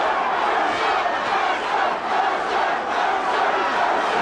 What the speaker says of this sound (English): And now the Mercer crowd comes to his support.